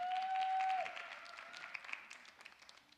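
An audience at a church service applauds for a few seconds, the clapping starting full and then thinning into scattered claps as it fades, with a brief sustained tone heard near the start.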